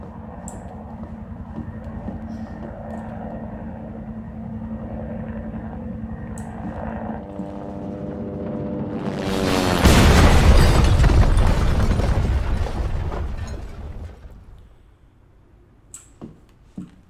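In Resident Evil 2 Remake, a low droning rumble builds, then a helicopter crashes and explodes into a massive, roaring blast that swells for several seconds before fading, followed by a few sharp clanks.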